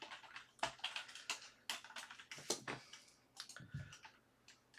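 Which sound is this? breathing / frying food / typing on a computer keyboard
typing on a computer keyboard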